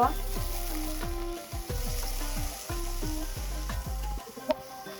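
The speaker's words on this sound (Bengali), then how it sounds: "কপিগুলো উঠিয়ে নিয়ে আমি টমেটোগুলো এভাবে একটু ভেজে নেব" Tomatoes frying in a hot pan with oil, after cauliflower for a cauliflower mash, giving a steady loud sizzle with repeated stirring and spatula scrapes throughout.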